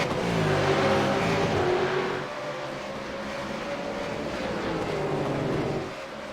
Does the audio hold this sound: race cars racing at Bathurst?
yes